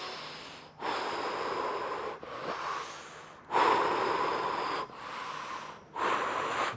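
Wim Hof style breathing, with four strong bursts of forceful breath, each lasting about a second, pausing briefly between them, close and loud with no talking.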